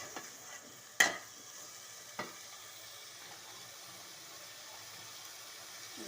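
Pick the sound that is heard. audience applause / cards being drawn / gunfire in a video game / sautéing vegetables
sautéing vegetables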